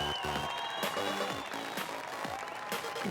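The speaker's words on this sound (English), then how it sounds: "Please give them all a huge round of applause." A crowd at a beach volleyball championship medal ceremony applauds the podium winners, light scattered clapping and some cheering under amplified music and an announcer's voice.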